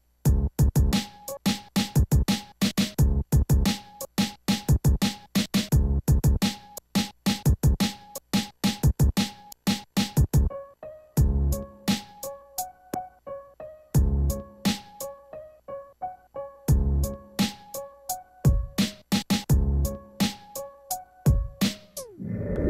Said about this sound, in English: This way you can do a lot of drumming with the pads and you can flip your own beat the way you want it.